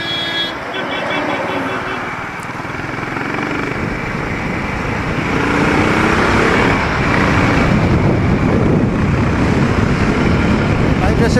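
A Harley-Davidson motorcycle on its first ride, its engine and intake producing a steady, loud roar with road and wind rush that grows slightly louder partway through; a voice may be talking underneath.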